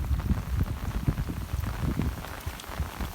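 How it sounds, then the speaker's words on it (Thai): Steady rain driven by wind patters hard on a surface, a dense crackling wash with gusty swells, close and continuous with no voices. "ทั้งลมทั้งฝนเลย"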